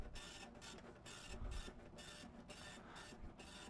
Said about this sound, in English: Ah, it's a printer.